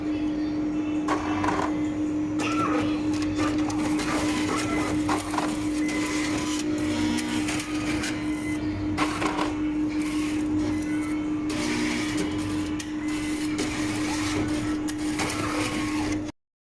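A Cobas e411 laboratory analyzer's reagent rotor mechanism runs with a steady mechanical hum and whir, punctuated by repeated clicks and clunks throughout, close and fairly loud, with no talk.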